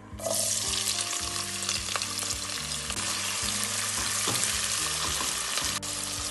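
Loud, steady sizzling of onions frying in hot oil, with occasional stirring clinks and background hum; no talking.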